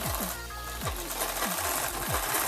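A sewing machine runs along a blouse edge, close and loud, with a rapid mechanical rhythm and a few short shifts in pitch as it stitches, heard alone.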